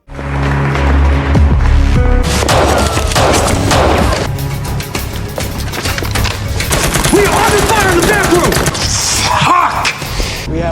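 A film shootout plays out loud and close, with bursts of rapid gunfire and impacts over a thick layer of score and effects, and voices shouting in the mix.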